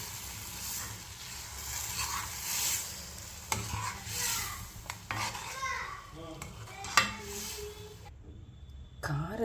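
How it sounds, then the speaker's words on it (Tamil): Tomato chutney is stirred in a pan with a spoon, giving soft scraping and clinking over a faint sizzle. A few sharper knocks of utensil on metal come through, and no voices are heard. "நல்லா கிண்டி விட்டுடலாம்."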